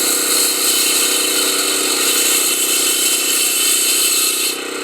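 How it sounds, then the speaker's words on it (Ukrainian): A utility repair crew cuts asphalt with a motorized power saw at a water main break on a city street, a steady, loud, continuous engine-driven whine and grind lasting throughout, with no talk. "ріжемо асфальт потім будемо копати і ремонтувати"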